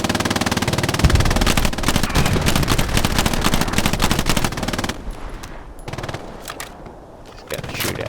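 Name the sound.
machine gun fire in a video game, Hell Let Loose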